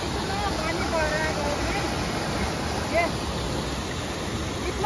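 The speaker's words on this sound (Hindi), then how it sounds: "पानी बरसाती नहर में ना आके पूरे खेतों को फाड़ के खेतों के बीचों बीच जा रहा है" Floodwater from a cloudburst surges through farm fields in a hill village, a steady loud broadband roar of rushing water that fills the whole scene without pause.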